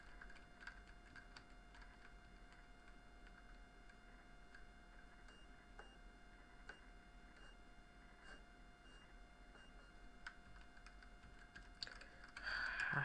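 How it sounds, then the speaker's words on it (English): Sparse keyboard clicks while using a computer running a Microsoft Whistler build, faint irregular taps over a steady electronic hum, with a brief louder burst near the end. "I have to use my keyboard to move."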